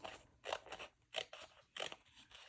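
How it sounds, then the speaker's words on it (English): Scissors cutting apart a section of paper in a paper-craft ephemera project, giving several close, crisp snips in an uneven rhythm. "And now I am going to cut apart that one section"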